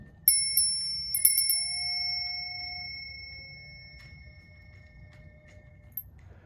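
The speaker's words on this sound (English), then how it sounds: "Let's ring this bell." A bright bell rings several quick times near the start, its clear tone ringing out and slowly fading over a soft low rumble.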